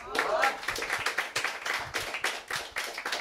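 At a standup comedy show, the crowd claps in a fairly tight rhythmic pattern of sharp hand strikes, steady and close, with a voice briefly heard at the opening.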